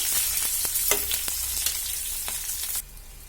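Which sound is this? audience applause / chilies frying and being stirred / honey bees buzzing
chilies frying and being stirred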